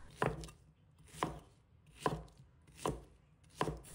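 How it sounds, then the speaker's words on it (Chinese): Pineapple chopped into small pieces on a cutting board, five crisp knife strikes at a slow, steady rhythm, close and clear with no talk. "再切成小块。"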